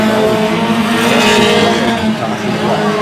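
Race cars in a feature race at Oyster Bed Speedway, a short oval track: a continuous loud roar of several engines running laps together, with shifting tones as cars pass, under a commentator's voice.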